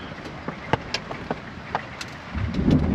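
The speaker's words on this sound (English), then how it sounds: "It's hailing." Hail falling during a thunderstorm in the Mt Buffalo area of Australia, heard as scattered sharp hailstone impacts ticking at irregular moments, then building into a denser rumbling patter near the end.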